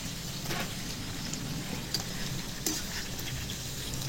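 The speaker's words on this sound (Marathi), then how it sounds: "जवळपास 2 मिनिटं आपल्याला मोठ्या आचेवर याला फ्राय करायला लागतील।" Soybean chunks fry in hot oil over high flame, giving a steady, soft sizzle and crackle with occasional sharper pops and stirring sounds, and no talking.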